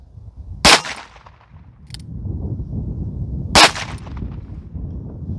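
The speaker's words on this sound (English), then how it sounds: "We'll shoot the FMJs first, then the all coppers." Two sharp shots from a .22 Magnum revolver firing FMJ rounds at a plate, spaced about three seconds apart, each a loud crack with a quick fading ring, over low outdoor rumble.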